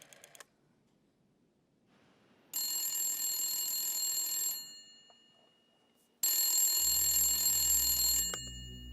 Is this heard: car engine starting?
no